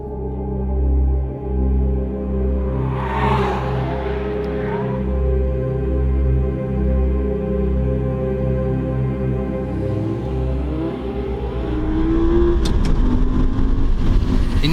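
Audi R8 engine driven hard on a fast track lap, a loud, steady mid-pitched roar that holds near and constant, rising in intensity toward the end as throttle builds.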